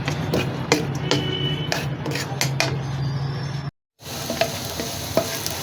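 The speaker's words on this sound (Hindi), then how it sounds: "लहसुन डाल के भून लेते हैं इसको।" Garlic sizzles in a few spoonfuls of oil in a pan, a constant frying hiss broken by sharp taps and scrapes of stirring. It cuts out briefly to near silence before the sizzle and tapping resume.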